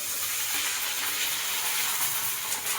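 Wheat kurdai dropped into hot oil in a kadhai gives off a steady, close sizzling hiss that holds without a break and without talk.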